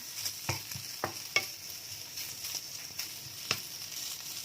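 Bacon frying over low heat in a pan makes a soft background sizzle broken by scattered sharp pops and crackles, heard close with no talking.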